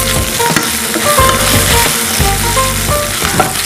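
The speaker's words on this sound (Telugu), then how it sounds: "సో ఆనియన్స్ బాగా ఫ్రై అవ్వాలి." Onions frying with ginger garlic paste in a pan for a curry, producing a loud, dense, continuous sizzle with rhythmic stirring scrapes, close up and with no one talking.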